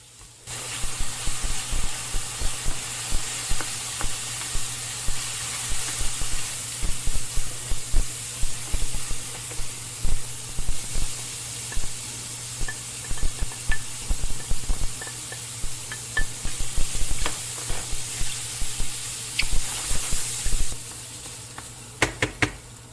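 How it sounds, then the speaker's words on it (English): Vegetables sautéing in a little oil with a pinch of salt in a pan, a loud steady sizzle and hiss with frequent small crackles and pops and no talking. "I'll start sauteing this in a little bit of oil with a pinch of salt"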